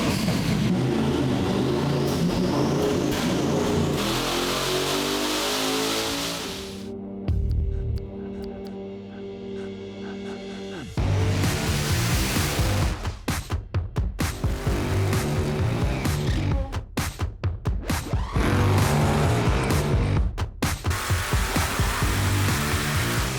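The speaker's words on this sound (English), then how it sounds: "We are on the Hub Dyno today. Big block Chevrolet, Chevelle." A big block Chevrolet Chevelle engine running on a Hub dyno, a loud droning roar that drops off partway, then returns with rising, rapid revving bursts and sharp throttle changes.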